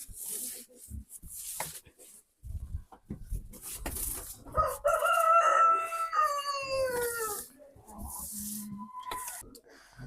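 Chickens and a rooster out in a yard while they graze, with clucking and a crowing call standing out in the middle, mixed with scattered scraping and some background chatter.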